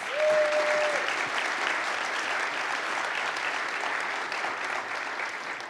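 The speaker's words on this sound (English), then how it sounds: "Can we get a round of applause for our guests, please?" Audience at a live fall breakfast event applauds guests on stage, a steady wash of many hands clapping from a mid-distance crowd, sustained and even throughout, with a brief voice at the start.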